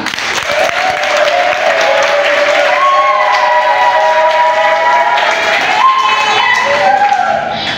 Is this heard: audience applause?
yes